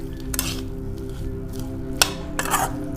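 A spoon stirring vegetables and spice masala in a pan, a few short scraping clinks and soft squishes at intervals over a low steady hum, close and otherwise quiet.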